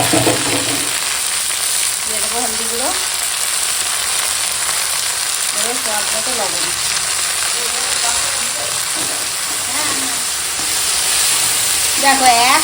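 Chopped water spinach goes into a pan of fried onion tempering and sizzles loudly and continuously up close, while a voice speaks intermittently over the frying.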